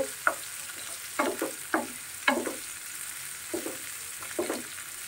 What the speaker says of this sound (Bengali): পেঁয়াজটা একটু ভেজে নেই।